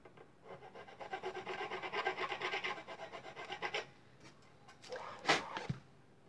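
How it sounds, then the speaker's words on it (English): Hand filing on a guitar part with a hard, plastic-like lacquered finish, producing a steady run of close rasping strokes for about four seconds, then a pause and a few sharper scrapes. "It didn't file soft. Like a piece of plastic would, or an ABS."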